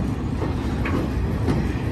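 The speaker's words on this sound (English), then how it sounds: "they're working this train onto the main lines now" A BNSF freight train rolls slowly through a rail yard, a steady low rumble with faint wheel and car noise, close and continuous with no talk.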